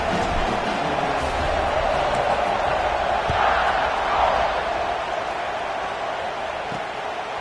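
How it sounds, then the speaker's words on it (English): A college football video game crowd roars in a steady, dense stadium din that swells slightly midway and never drops out. "You think this crowd's going to get loud when their defense comes on the field?"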